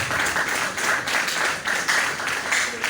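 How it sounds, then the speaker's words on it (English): An audience at a medical laboratory science induction ceremony clapping, a dense steady applause filling the hall, sustained and fairly loud. "I expect you to clap."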